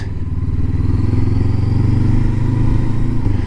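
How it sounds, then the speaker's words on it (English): A steady low engine drone with a buzzing propeller tone from a single-engine Piper light aircraft flying overhead holds constant throughout, loud and continuous with no pauses. "Little single engine, that'll be either somebody learning to fly or a bit of a joy flight."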